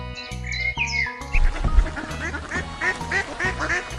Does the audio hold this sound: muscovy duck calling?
yes